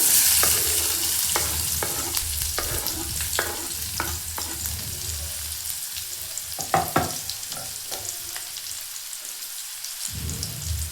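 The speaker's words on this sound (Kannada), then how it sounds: "ಕರಿಬೇವು ಸೊಪ್ಪು, ಚೆನ್ನಾಗಿ ಎರಡೂ ಫ್ರೈ ಮಾಡ್ಕೊಳ್ಳೋಣ." Chopped onions and curry leaves fry in hot oil with mustard seeds and cumin in a pan, a steady crackling sizzle broken by the sharp scrape and clack of a stirring spoon, loud and close, with no voices.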